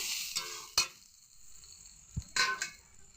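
Potatoes and elephant foot yam sizzle quietly in a pan. A spatula stirs them in a few sharp scrapes and clinks, with soft hissing between the strokes.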